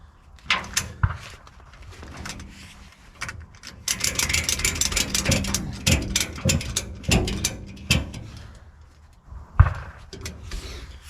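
Ratchet straps being fitted and cranked tight on a load during a winching job in rural Lincolnshire, with repeated clicking ratchet strokes in bursts, some clanks and knocks, fairly close and moderately loud.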